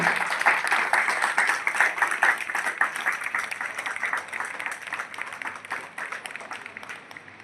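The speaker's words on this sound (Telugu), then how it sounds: "చప్పట్లు." An audience at a yoga day event applauds as a senior yoga master is called to the stage, the clapping dense and steady at first and then slowly thinning and fading toward the end.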